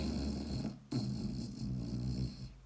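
A voice mimics nasal snoring through the nose, producing a close, steady rattling drone with a short break near the start and then a second long snore-like breath, no other talk.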